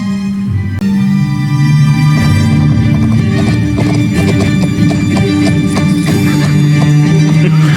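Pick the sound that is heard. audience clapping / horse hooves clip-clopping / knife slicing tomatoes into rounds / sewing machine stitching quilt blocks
horse hooves clip-clopping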